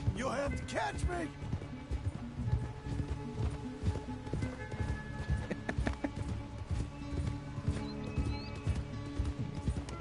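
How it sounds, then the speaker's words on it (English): Horse galloping in Red Dead Redemption II, with steady clip-clop hoofbeats and a whinny near the start, under speech from characters in the game. "there's no way that pony can outrun this horse"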